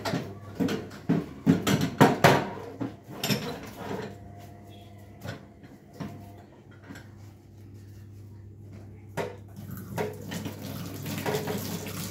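Kitchen tap water running while items are rinsed one by one at a sink, with splashing bursts and clattering handling sounds up close, then a quieter stretch and more rinsing near the end.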